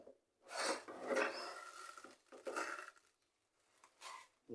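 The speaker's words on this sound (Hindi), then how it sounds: "3 चम्मच जो आपने चीनी के लेने हैं दोस्तों।" Spoon scooping sugar and clinking against a container, several short scraping, clinking bursts separated by brief pauses, close and fairly quiet, no voices.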